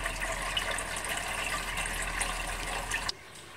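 Water from a reef aquarium return pump, run on a DC controller, pours steadily into the tank as a continuous close rushing gush, then cuts off abruptly near the end.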